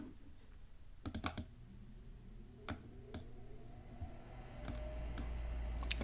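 Keys tapped and clicked on a computer keyboard while working in an Excel spreadsheet: sparse sharp clicks in small clusters and single strokes, close and clear over a quiet hum, with no talking.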